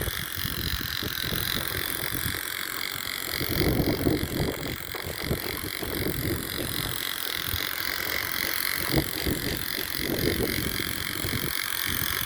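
Wind blows outdoors and buffets the microphone in a continuous rough rumble with gusty swells, steady and loud throughout.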